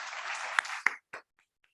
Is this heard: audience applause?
yes